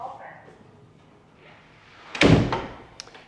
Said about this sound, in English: A nice huge double door.